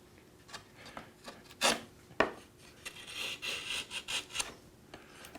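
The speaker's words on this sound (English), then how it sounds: "I use the pattern maker's gouge to match that pattern" A wide, shallow-sweep pattern maker's gouge carves wood to match a pattern, giving a series of quiet, close scraping and shaving strokes, irregularly spaced, with a few sharper cuts and a rasping run near the end.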